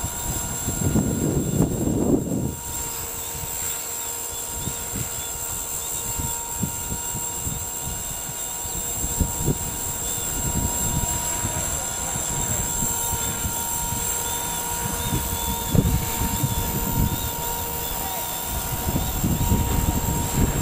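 Walkera V400D02 flybarless RC helicopter flying outdoors in strong wind, a steady high rotor and motor whine running throughout with gusting wind buffeting the microphone, fairly close and continuous.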